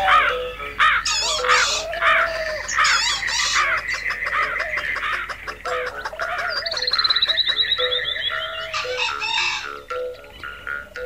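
Crows caw loudly among clucking chickens and other bird and frog calls in a busy, continuous rural soundscape, with harsh repeated calls layered over one another close by.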